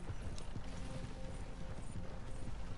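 Horses' hooves clip-clop steadily in the video game Red Dead Online, a fast rhythmic patter of hoofbeats under dense game noise, with faint mechanical rattling mixed in.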